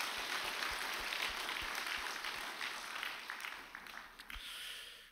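A Korean congregation applauds during an evening worship service honoring elders, a full, steady clapping from many people that fades slightly toward the end, with a few louder individual claps standing out.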